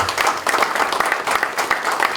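An audience at a Democratic Party of Korea supreme council meeting in Jeonbuk claps steadily, a dense patter of many hands at moderate volume, continuing evenly without a break.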